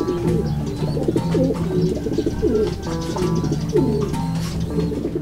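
Racing pigeons coo steadily at close range, with overlapping throaty calls rolling in a repeating rhythm over a busy loft background, and no talk.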